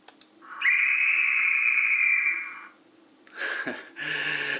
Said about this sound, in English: F5 is the guard's whistle.